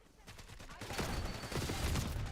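Rapid in-game gunfire from Call of Duty Warzone, a clustered burst of shots building in loudness across a couple of seconds, close and busy, with some voice underneath.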